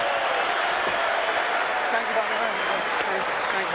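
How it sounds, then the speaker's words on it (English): A mixed martial arts arena crowd at UFC 32 in the Meadowlands on its feet cheering and applauding a knockout win, a dense, loud, continuous roar of clapping and crowd noise with a commentator talking over it. "Crowd on their feet to celebrate the victory for Uno."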